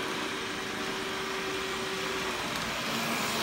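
A Xiaomi robot vacuum cleaner runs nearby with a constant, even whirring hum and a faint steady tonal whine, unbroken and without talk.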